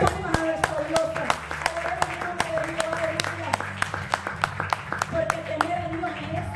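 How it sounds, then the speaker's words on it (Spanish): Congregation at a Spanish-language church service clapping along in a steady rhythm, sharp claps standing out over music and singing voices throughout. "Démosle palmas a nuestro Dios."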